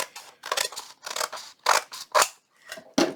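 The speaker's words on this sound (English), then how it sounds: "we better cut this off and get a straight cut first of all, a straight edge" Scissors snipping through a paper napkin to trim a straight edge, several crisp close cuts in uneven bursts with short pauses between, no voices.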